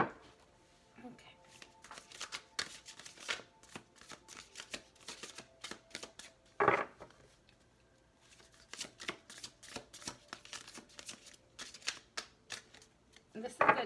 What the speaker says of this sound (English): This is a new deck and it's like kind of big and awkward to shuffle